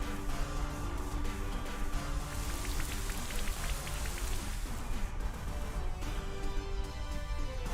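Rain sound effect from the Rain Dance move in the video game Pokemon Shield, a steady dense patter of falling drops over soft in-game background music, continuous and fairly loud.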